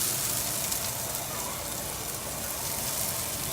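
Mushrooms frying in a pan, giving a steady, dense sizzle with a crackling hiss that holds evenly throughout, close and fairly loud with no talking.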